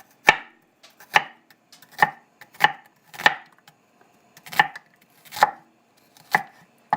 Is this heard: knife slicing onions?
yes